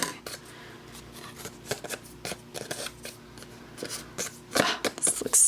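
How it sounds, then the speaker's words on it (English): Scissors trimming excess vellum paper on a handmade Halloween greeting card, a run of quick crisp snips and paper rustles close by, growing louder near the end, with no talk. "I see that I've got some vellum sticking out over here, so I'm just going to trim this off."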